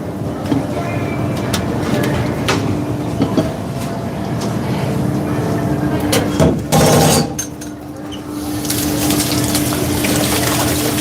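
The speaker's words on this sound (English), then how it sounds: "let me go wash these because I'm going to need them to restrain this stock back into a pot" Utensils washed under a running tap in a busy work kitchen: a steady, loud rush of water with clinks and clatters, over constant background noise, with a brief louder splash partway through.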